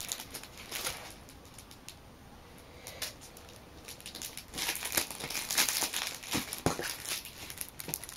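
Bulky plastic packaging being unwrapped, with steady crinkling and crumpling that grows louder and denser partway through, punctuated by sharp rustles and tearing, close by with no talking.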